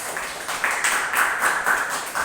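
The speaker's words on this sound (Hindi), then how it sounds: "तो सबसे पहले तो हम तालियां बजाएंगे।" An audience at a business achievers' event claps in welcome for a speaker, a steady, dense patter of many hands that swells slightly and keeps going throughout.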